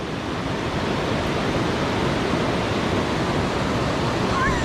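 A hidden waterfall roars nearby, a loud, dense, unbroken wash of falling water that stays constant throughout with no voices over it.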